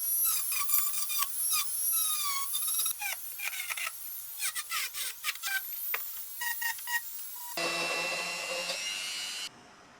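A brass wire brush scrubs caked dirt from the steel tools of a 1988 BMW E30 M3 tool kit. It comes as rapid bursts of squeaky, scratchy strokes in uneven rhythm, close and fairly quiet, then a steadier hiss before it stops.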